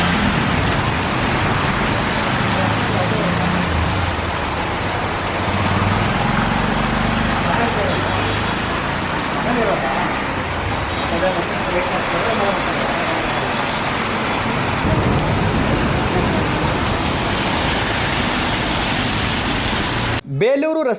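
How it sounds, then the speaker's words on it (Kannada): Heavy rain pours down in Chikkamagaluru during a thunderstorm, a dense steady hiss mixed with the wash of passing road traffic, loud and unbroken for about twenty seconds before cutting off abruptly. "ವಿಪರೀತ ಗುಡುಗು ಮಿಂಚಿನಿಂದ ಕೂಡಿದ ಮಳೆಗೆ ಜನರು ಬೆಚ್ಚೆತ್ತು ಮನೆ ಸೇರಿದರು"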